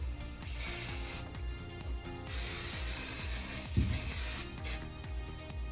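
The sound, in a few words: adhesive spray can spraying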